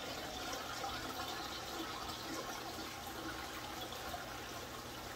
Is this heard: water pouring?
yes